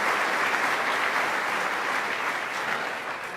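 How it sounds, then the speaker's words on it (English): A political event audience gives a full round of applause, a dense and steady roar of clapping that holds for several seconds and eases slightly at the end, with no talking. "Let's give a round of applause to Crystal Peoples-Stokes."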